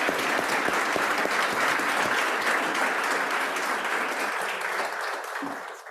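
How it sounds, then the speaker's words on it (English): An audience at a hybrid public lecture gives a warm round of applause. Dense, steady clapping runs for about five seconds before it tapers off at the end, with no talk over it. "I think we should give Professor Nkulu a warm round of applause"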